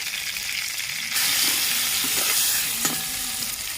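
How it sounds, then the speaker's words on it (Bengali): Loud, steady sizzling of pointed gourd frying in hot oil, swelling partway through, with a few spatula scrapes against the pan. "পটলগুলো লাল করে ভাজা হয়ে গেছে"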